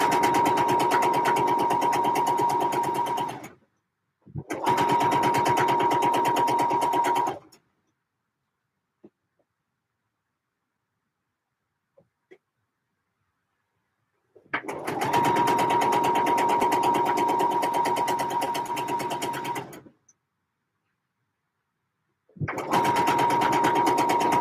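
A sewing machine runs in several sustained bursts while stitching trousers, a loud close whir with a steady rhythmic hum, broken by silent pauses and faint clicks.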